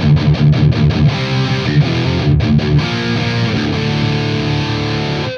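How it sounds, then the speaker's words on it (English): Heavy metal distortion from a Sonicake Black Hammer multi-effects unit on electric guitar with treble and bass raised, quick muted chugs giving way to a long ringing chord, loud and alone. "That's a pretty good distortion, I reckon."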